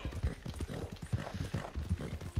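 Arabian horse galloping in the Red Dead Redemption 2 video game, a fast, steady run of close, loud hoofbeats drumming throughout with no talk over them.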